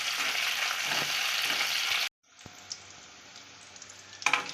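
Ginger, garlic and dried red chillies fry in a pan for a tomato-coriander chutney, a steady loud sizzle that cuts out abruptly, then returns softer with occasional stirring clicks and a brief flare of crackle near the end.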